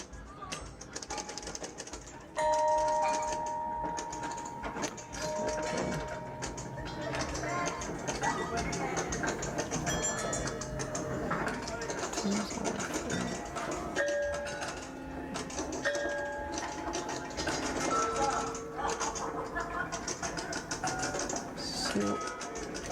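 A sound sculpture combining a pinball machine and a gamelan plays busy metallic tapping and rattling, with ringing tuned tones layered over it continuously. Someone speaks over part of it.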